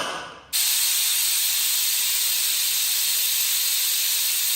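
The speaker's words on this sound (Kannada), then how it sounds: "ಕುಕ್ಕರ್ ಕೂಗಿದೆ" A pressure cooker cooking jeera rice lets off its whistle: after a brief quieter start, a loud, sharp steam hiss bursts in and holds steady and continuous to the end.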